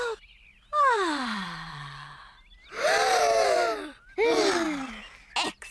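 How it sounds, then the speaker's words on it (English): Cartoon children from Peppa Pig take deep breaths outdoors at a campsite: a few long, voiced inhales and sighs in separate bursts, close and clear, with short quiet gaps between them. "Breathe in the wonderful fresh air"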